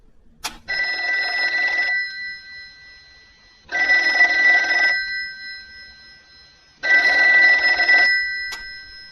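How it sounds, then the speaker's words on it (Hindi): An old-style telephone bell rings in three long bursts, each about a second and a half, separated by short silences, loud and close. "अचानक फोन की घंटी बजी।"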